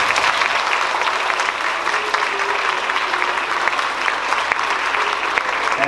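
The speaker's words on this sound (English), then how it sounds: "Please give yourselves a round of applause." Loud, dense applause from an audience at a school event celebrating students, a continuous roar of many hands clapping with a faint crowd murmur, steady throughout without letup.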